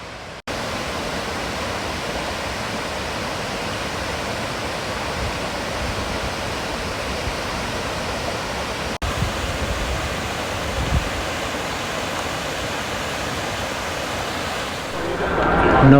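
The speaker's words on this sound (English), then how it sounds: "after an hour trekking, we made it to this destinations, the waterfall." A waterfall in Banff National Park roars as a steady, loud broadband rush that holds for the whole stretch, with a slight swell at the end and no talking.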